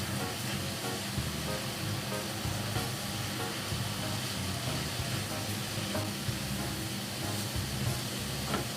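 Vegetables being stirred in a pan on the stove with mushroom broth added, a steady soft sizzle and scraping that runs continuously at low level with no talk.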